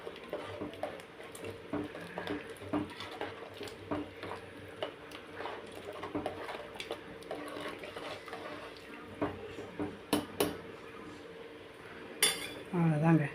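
A ladle scrapes and clinks against a metal pot as soya bean biryani is stirred with fresh mint and coriander leaves, giving irregular nearby knocks and rattles over a soft background, with a few sharper clanks near the end.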